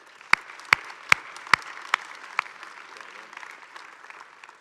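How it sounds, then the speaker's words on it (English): A short burst of scattered hand claps from a small conference keynote audience, several sharp distinct claps at first, then thinning into a soft patter. "So give them a round of applause, please."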